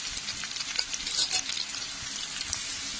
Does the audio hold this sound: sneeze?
no